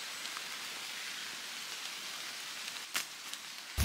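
Rain falls steadily in a forest, a soft, even hiss of drops on leaves and ground with a few sharper nearby taps and a brief louder knock at the end, fairly quiet and without voices.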